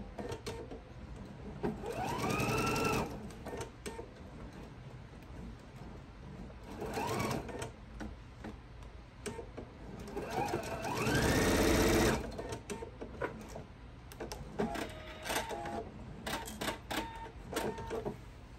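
A sewing machine stitches a fabric thread catcher, running in steady whirring bursts that speed up and stop, with clicks and fabric handling between runs, close and clear.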